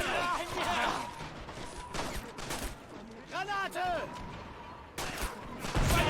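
Grenade explosion in the Stalingrad battle of Men of War: Assault, heard amid crackling gunfire, with sharp bursts near the start and a heavy blast toward the end, while someone talks over the fighting.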